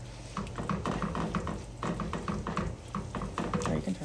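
Cheese being stirred into a pot of bacon mac and cheese until melted: close, continuous spoon scraping and thick gloopy squelching with a steady, repetitive motion over a low kitchen background.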